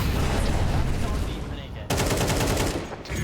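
Dense gunfire from Counter-Strike 2 rattles in a continuous barrage of loud shots, breaking off briefly and resuming with a second burst.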